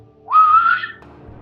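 A voice imitates a whistle he heard in the Maine woods of the Allagash, making one clear rising then held whistling tone about half a second long, close and fairly loud, before it fades into quiet background.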